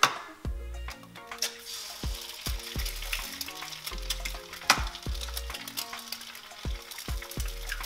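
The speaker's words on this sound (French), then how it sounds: "Une fois que notre plaque est chaude, on va pouvoir y ajouter 2 œufs" Two eggs fry in a hot oiled pan for a shrimp stir-fry, crackling and popping close by, with sizzle bursts and clinks of a utensil against the pan.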